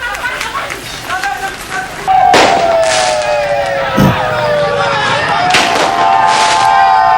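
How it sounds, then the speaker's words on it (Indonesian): Several sharp police warning shots crack out amid a noisy crowd in a street brawl and a wailing siren, loud and echoing over the commotion. "Polisi sempat mengeluarkan tembakan peringatan untuk membubarkan tawuran warga"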